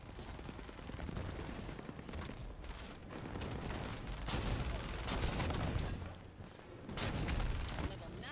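Sniper rifle gunfire in a video game: dense, loud volleys of shots and bangs that fill the whole stretch, with voices mixed in beneath the shooting.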